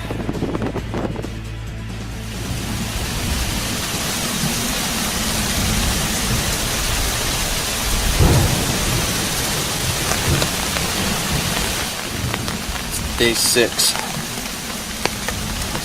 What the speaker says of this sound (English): Rain coming down hard.